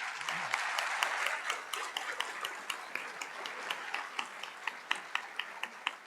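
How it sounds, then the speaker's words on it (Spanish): An audience at a leadership lecture applauds a speaker, a fairly soft, even patter of clapping that thins out into a few isolated, slower claps toward the end. "yo quiero que le demos un aplauso al señor Maturana, al doctor Maturana."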